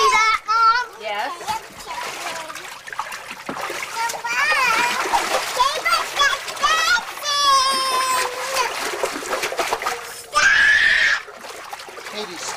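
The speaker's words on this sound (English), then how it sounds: "stop splashing" Kids splashing water, probably in a pool or bath, with repeated splatters and loud children's voices and shrieks running throughout, close and busy.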